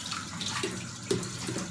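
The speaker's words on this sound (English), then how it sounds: "it's really a bit of running water in between the stalk" Tap water runs over celery stalks being washed in a kitchen, a steady broad splashing stream with a couple of brief louder splashes, no one talking.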